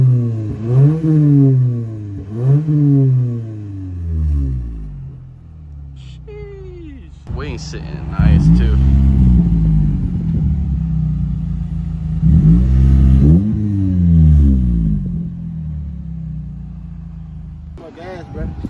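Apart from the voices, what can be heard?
car engine revving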